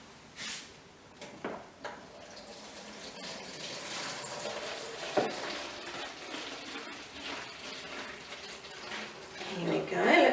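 Garden soil and water shaken together into a sloppy, muddy mixture, giving a continuous sloshing, rattling wash of sound that builds louder toward the end.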